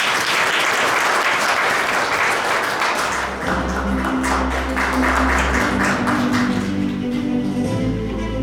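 A large audience at a memorial ceremony applauds steadily, with dense continuous clapping throughout and music starting to swell beneath it in the second half.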